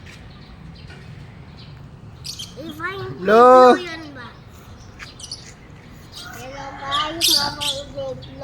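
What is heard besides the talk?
pet birds chirping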